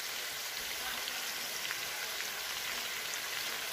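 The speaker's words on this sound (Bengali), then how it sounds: "এরপর এটাকে আমরা আরেকটু কষিয়ে নেব এইভাবে 2 থেকে 3 মিনিটের মতো আমরা এইভাবে এটাকে কষাবো" Ginger-garlic paste sautéing in a hot pan, giving a steady, soft crackling sizzle with scattered pops, faint and continuous with no voices.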